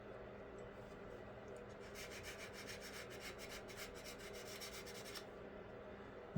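Sandpaper works over dried putty on a plastic Revell 1/48 scale P-40B Tiger Shark model near the pilot figure's padded headrest, giving a steady, close, continuous rasping rub that swells slightly midway, with no talking.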